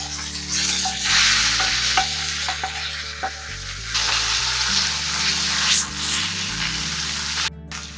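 Oyster mushrooms frying in a pan give a steady, close sizzle with occasional stirring scrapes, running under a continuous background music bed without speech.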